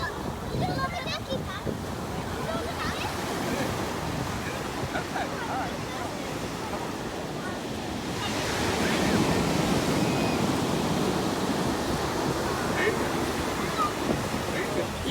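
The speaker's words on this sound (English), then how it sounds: "I think the waves kind of snuck up on it." Ocean waves breaking on a Southern California beach, a continuous loud roaring surf wash that swells midway, mixed with wind buffeting the microphone.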